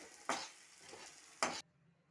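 Aloo paratha cooking in a little oil on a pan, a quiet steady sizzle broken by two short louder scraping stirs before it drops off near silent.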